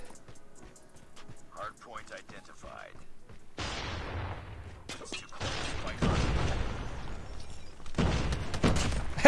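Call of Duty Hardpoint match with the new Striker attachment: loud bursts of game gunfire and explosive booms fill the second half, with quieter clatter and brief voice-like sounds before.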